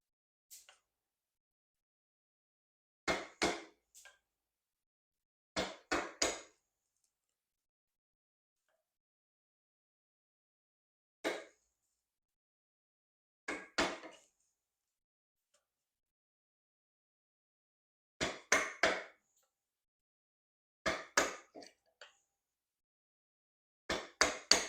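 Hand chisel chipping dovetail waste from wood: sharp isolated knocks in clusters of two to four, spaced by long silent gaps, close and fairly faint, with no talking.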